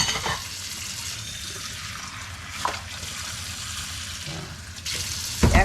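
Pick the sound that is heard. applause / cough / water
water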